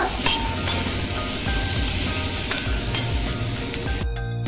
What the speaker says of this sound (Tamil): தக்காளி நல்லா பஞ்சாட்டம் சீக்கிரமாக ஃப்ரை ஆயிருங்க